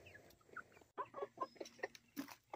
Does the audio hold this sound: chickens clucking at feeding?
yes